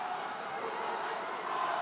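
A packed MMA arena crowd in Curitiba roars in a steady, dense wall of cheering, with no breaks, at a Brave CF fight.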